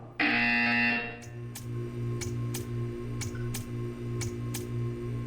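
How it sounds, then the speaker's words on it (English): A loud electronic buzzer in Portal 2 blares for about a second, then a steady ticking follows at an even pace. "You will hear a buzzer."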